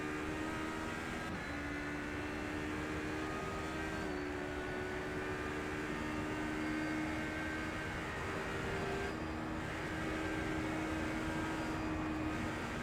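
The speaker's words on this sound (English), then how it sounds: "As you can hear how tentative Jonk is on the throttle on that LMP2 through the slower sections" An LMP2 prototype race car on board at VIR, its engine droning steadily under light, tentative throttle through slow corners, with sustained tonal harmonics that shift slightly in pitch over broadband wind and road noise.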